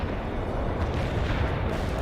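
Artillery barrage in the video game World in Conflict, a continuous heavy low rumble of overlapping explosions, loud and dense throughout with no distinct gaps.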